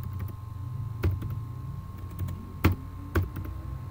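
Keys on a computer keyboard clack sparsely while C++ code is typed, giving a few separate taps with uneven gaps between them over a low, steady background hum.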